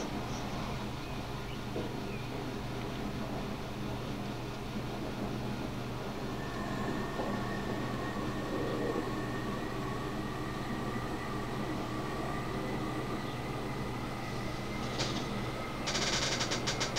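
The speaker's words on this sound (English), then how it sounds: "Because this is a fast train" Metropolitan Line fast train in Transport Fever 2 rumbling along steadily at speed, a continuous dense rolling roar with a faint rising whine, running alone without talk.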